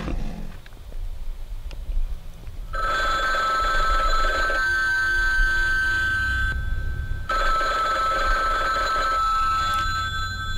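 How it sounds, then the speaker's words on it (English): Telephone ringing in the horror video game Bloodwash, two long bursts of a loud electronic bell tone separated by a short pause, over a low ambient hum, with no talk. "Shall we answer the phone?"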